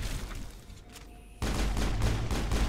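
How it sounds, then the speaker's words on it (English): Rapid pistol gunfire in the Mass Effect video game, a dense run of loud, close shots that starts abruptly partway through after a quieter stretch of game ambience. "Yeah, I'm taking out my pistol."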